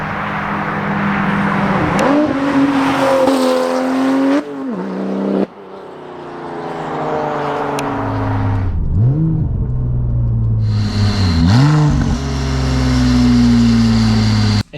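A Porsche 911 Turbo of the 996 generation with a straight-pipe exhaust revs loudly and up close, several sharp throttle blips climbing and falling back to a raspy idle between them.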